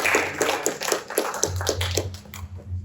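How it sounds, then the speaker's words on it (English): Scattered hand claps from an audience applauding a volunteer named Daniel at a talk, a loose run of claps fading under a low hum. "Give Daniel a round of applause there."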